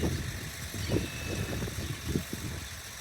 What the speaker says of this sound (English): Riding my mower.